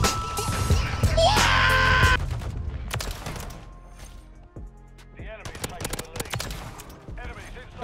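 Renetti pistol gunfire in a Modern Warfare 3 match, heard as sharp, scattered shots among other game noise and effects, with voices talking over parts of it.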